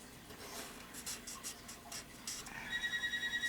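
A telephone rings faintly in a room, its pulsing electronic tone emerging near the end after soft scratching strokes of a brush-tip marker coloring on paper.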